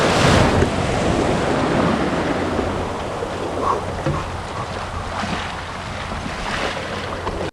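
Surf breaks continuously at La Jolla Shores as a kayak is walked out through the shallows, a loud broadband wash of waves with rushing water and some wind buffeting the microphone throughout.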